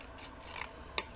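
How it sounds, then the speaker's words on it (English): Scissors trimming folded material: a couple of quiet, crisp snips against a soft background hiss, spaced about half a second apart. "you can just trim it off"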